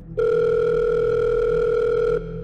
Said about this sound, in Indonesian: tiba-tiba telepon gue bunyi tuh.